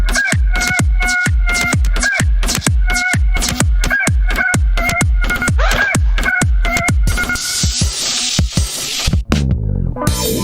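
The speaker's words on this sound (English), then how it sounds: "Why are you screaming like a wild bird? Propaganda rooster." Rooster crowing loudly and close, with a rapid run of repeated harsh calls followed by a longer drawn-out crow near the end, alone without talk.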